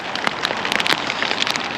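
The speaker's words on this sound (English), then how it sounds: "Not stopped raining all day, to be honest." Steady rain falling at a reservoir, pattering densely on a nearby surface with scattered sharper drips, a continuous close hiss with no voices.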